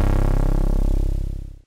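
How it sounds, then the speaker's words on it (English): Serum analog-style techno horn lead built from two sawtooth waves with slow envelopes, distortion, compression and reverb, a single loud, gritty, buzzing blast that fades out over about a second and a half. "it's basically a combination of two sawtooth with slow envelopes"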